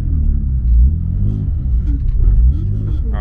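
A BMW E36 rolls slowly at full steering lock, its engine a low, steady rumble with mild rises in revs, heard up close alongside a few brief sounds that suggest voices.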